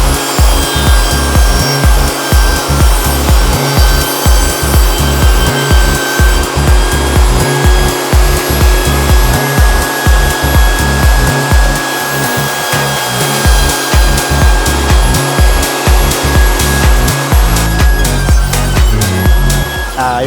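Table saw ripping wooden boards held against the fence by a feather board, a loud continuous motor whine with a pulsing rhythmic cutting texture throughout, close and steady.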